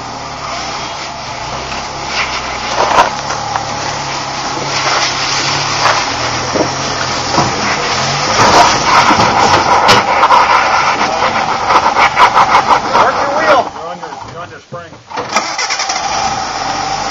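A rock crawler's engine turns over and settles into a steady idle, loud and close outdoors, with people talking over it throughout.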